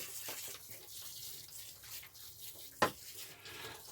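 Garden bed of freshly sown seeds being watered in summer heat, a soft steady hiss of water spraying and pattering onto soil with a brief sharper splash near the end.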